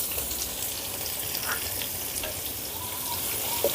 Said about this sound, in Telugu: ఈ ఉల్లిపాయల్ని బ్రౌన్ కలర్ వచ్చేంత వరకు వేపుకుందామండి